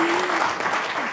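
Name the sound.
applause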